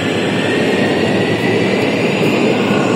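A Munich metro train rumbles and roars continuously at close range, a dense, steady wash of motion noise with no talk.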